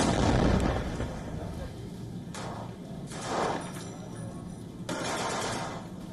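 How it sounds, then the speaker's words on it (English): Heavy shelling in Rafah, Gaza: deep booming blasts and rumbling bursts recur across the stretch, loud and broad, with a low roar between impacts. "Despite the U.S. pressure, heavy shelling was reported in Rafah."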